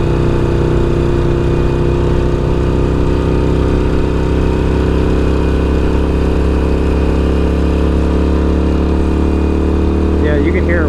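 A motorcycle engine on Avon Storm 3D-XM tires drones steadily while riding in second gear, its loud, harmonic-rich tone rising slowly as it winds up, mixed with constant wind rush over the whole stretch.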